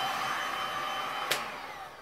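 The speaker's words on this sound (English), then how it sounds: "But with this heat gun" A heat gun blows steadily over a resin pour with a constant loud airy whoosh, broken only by one short click partway through.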